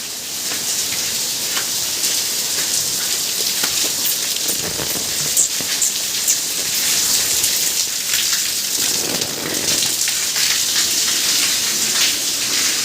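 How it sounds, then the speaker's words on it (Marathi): Heavy rain pours steadily and loudly over a street market, a dense continuous hiss of drops hitting surfaces throughout. "बघा पाऊसच पाऊस आहे सगळीकडे"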